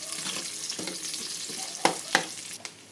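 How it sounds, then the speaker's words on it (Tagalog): Sliced onions fry in hot oil while being stirred toward golden brown for a shrimp-paste alamang dish: a steady sizzle with scraping turns and a few sharp utensil clinks against the pan near the end. "Pwede na rin po natin ilagay ang sibuyas. Halo-haloin po natin."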